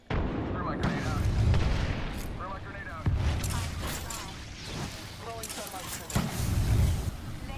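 Video game grenade blasts and gunfire booming in several heavy bursts amid a chaotic firefight, with players talking over the action.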